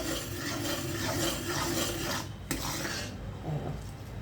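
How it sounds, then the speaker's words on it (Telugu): Ginger stirred in ghee in a pan while making ginger burfi, heard as continuous scraping and rasping of a spoon against the pan, with a sharp clink partway through, close and alone without talk. "అల్లం వేసి బాగా తిప్పుతూ ఉండాలండి"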